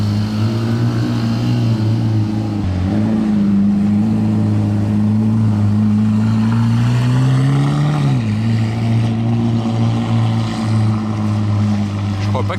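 A Lamborghini on a casino square in Monaco rumbles through a cold start, a loud continuous engine drone with a steady low hum that dips and rises once around the middle.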